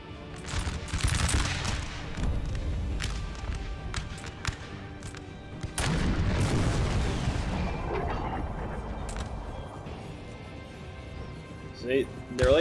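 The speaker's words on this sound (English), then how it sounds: "They're firing at will, these guys." Massed musket volleys from troops firing at will in a Napoleon: Total War battle at Salamanca, a rolling rattle of many shots with sharp cracks and booming bursts, while someone comments over the fighting.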